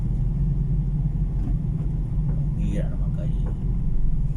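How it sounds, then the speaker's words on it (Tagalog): Large truck passing on a soft, freshly dumped dirt road, a heavy steady low engine rumble that holds throughout and grows slightly toward the end, with a voice briefly audible over it. "Ngayon, dumadaan yung malaking truck."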